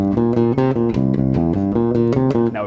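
An unaccompanied bass guitar riff repeats a short, rhythmic pattern of plucked low notes, played loud and close throughout with no voices.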